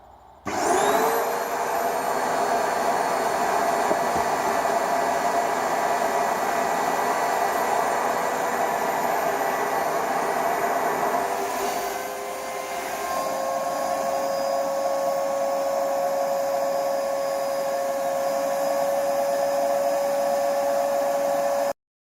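A steady, loud whirring hum runs continuously from a large vacuum former's heater warming up, with a slight shift in tone partway through.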